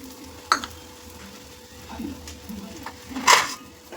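Two eggs fry in a pan for a special egg fry, giving a soft steady sizzle with two sharp clattering kitchen knocks, one early and one louder near the end.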